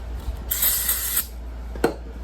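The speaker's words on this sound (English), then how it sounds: "I'll just spray a little brake clean on my valve spring" A short, close aerosol spray of brake cleaner onto an engine valve spring hisses for under a second, then a brief click or clatter follows against a low background hum.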